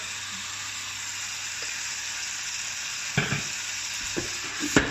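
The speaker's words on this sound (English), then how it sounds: "Crank the heat up and let that sizzle away and break down." Tomatoes with a touch of water sizzling steadily in a hot pan over high heat, close by, with a few scrapes and knocks of a utensil near the end.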